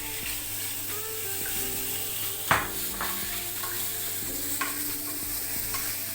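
Squid rings tossed into a hot pan with chopped onion, sizzling and frying steadily with a few scraping stirs and one sharp clack, close and moderately loud with no talk.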